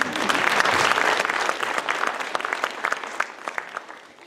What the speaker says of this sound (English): very, very, very special applause is needed for our new music teacher, Mrs. Bryant.